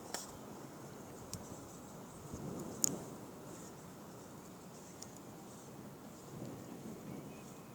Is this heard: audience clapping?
no